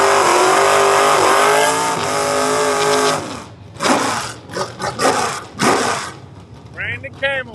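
A 1991 Chevy S10 makes a drag racing pass, a loud close revving engine with a harsh buzzing roar that cuts into choppy bursts and fades, with a voice talking over it.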